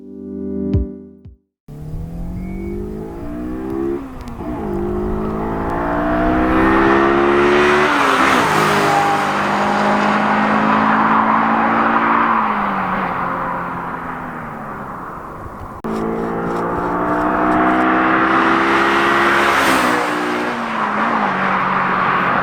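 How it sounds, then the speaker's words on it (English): A Honda S2000 with VTEC on a daily drive: the engine revs up through the gears in rising, loud sweeps, with a brief drop between shifts and steady road noise underneath. "some daily driving in the Honda S2000 now"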